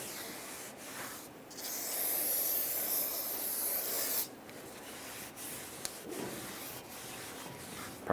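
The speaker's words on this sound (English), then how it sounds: "a rag to clean it all off and wipe it after you spray it down." Rough rubbing and scrubbing strokes with a rag wiping down a Ford E-350 Super Duty rear brake rotor, one long stretch followed by shorter intermittent swipes and small taps, close by with no talking.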